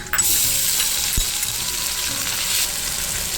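Ginger, garlic and onion paste hitting hot oil for a Bengali-style egg curry sets off a loud, steady, broadband sizzle that spits and crackles continuously, close to the pan.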